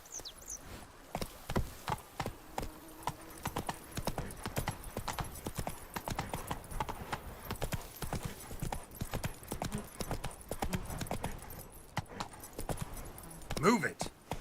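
Hooves of a horse in The Witcher 3 video game beat a steady, rapid clip-clop, moderately loud and continuous, with a brief whinny-like sound near the end.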